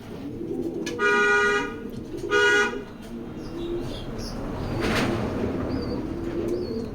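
Racing pigeons, including a grizzle hen, coo softly in a loft amid a low hum of background noise, while two brief harmonic honk-like tones stand out near the start.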